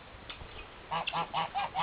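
Geese honk in a quick run of repeated calls after a quiet start, fairly faint and at a moderate distance.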